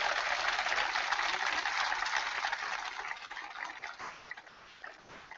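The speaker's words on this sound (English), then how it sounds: "Give Jeremy a big round of applause." Crowd applause at a political speech event, a dense steady wash of clapping that gradually thins and fades toward the end.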